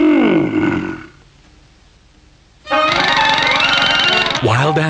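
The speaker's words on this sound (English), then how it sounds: "The lion is a wild animal." A lion roars loudly in a cartoon English lesson, a deep, drawn-out growl that fades, then after a pause a second, longer full roar bursts in close and strong, ending in a rough grunt.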